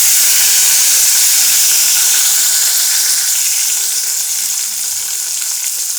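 Curry leaves crackle and sizzle in hot tempering oil, a steady, close, bright frying hiss that eases slightly toward the end, with no talking.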